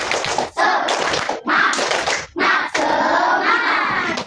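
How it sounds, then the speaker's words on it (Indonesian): A classroom of students does a rhythmic 'tepuk semangat' group clap, loud close bursts of clapping and tapping in patterned phrases separated by brief pauses. "kita tepuk semangat dulu ya. Oke, 1, 2, 3, tepuk semangat"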